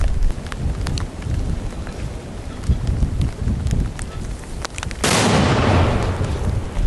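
A sudden heavy boom of a mortar firing bursts out near the end, following a stretch of rustling outdoor noise with scattered sharp knocks, in Donetsk region.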